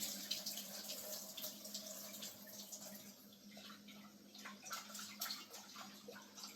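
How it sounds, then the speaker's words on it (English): Cold tap water runs steadily into a kitchen sink while ackee and saltfish are being prepared, a constant close splashing hiss with faint drips, no talking. "So I like to pour cold water."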